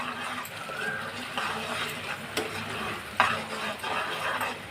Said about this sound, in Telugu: పచ్చిమిర్చి ఇదిలా ఫ్రై చేసుకుంటే బాగా బాగా వేయించుకోవాలి